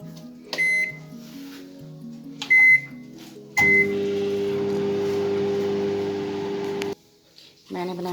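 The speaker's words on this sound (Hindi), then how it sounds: "इसे माइक्रोवेव कर लेती हूँ।" A microwave oven heating a paratha meal runs with a steady loud hum for about three seconds, preceded by several short beeps from button presses and followed by a brief beep, with faint voice before and after.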